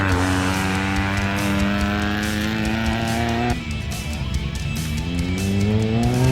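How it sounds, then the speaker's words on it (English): Class E bakkie race car powering off from the start, a loud engine revving hard close by with a steady harmonic drone that dips briefly as the gear changes, then climbs again. "Charmaine van Aswegen and Carleen Crowshaw, powering off in their Class E bakkie"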